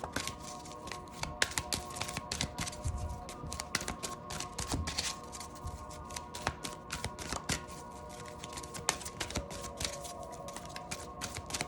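Rapid, crisp rustling and slapping of tarot cards being shuffled, dense and steady throughout, with a faint hum in the background and no talking.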